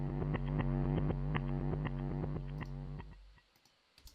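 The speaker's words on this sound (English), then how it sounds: "with that primal tap, it's got that alien transmission effect again" Reversed drum sample processed with a primal tap delay effect that gives an alien transmission sound: a pulsing, clicking, distorted tone with a steady rhythm that fades into sparse crackles near the end.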